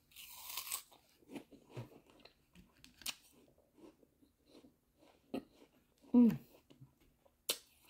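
Crunchy food being bitten and chewed up close, with sporadic crisp crunches and pauses between bites and soft voice sounds in between.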